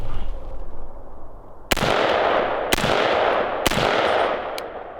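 A short-barreled AR rifle fitted with a JP Enterprises Silent Captured Spring System fires four sharp, loud shots about a second apart outdoors, each followed by a broad rumbling echo.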